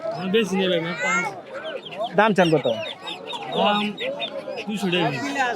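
Chinese ducks and chickens cluck and squawk in a busy poultry market in Kamrangirchar, Dhaka, while people talk over them nearly throughout.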